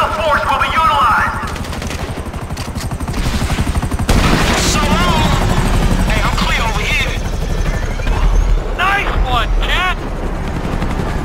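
A police helicopter in Grand Theft Auto V roars loudly and continuously overhead amid bursts of gunfire and chaotic action noise.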